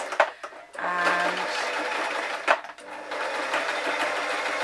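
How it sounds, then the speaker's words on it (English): Sewing machine stitching a puppy ears hat, running in a continuous whirring burst, pausing briefly, then running again at close range, with a short spoken word at the start. "I'm going to bring my machine over so that it's on the table."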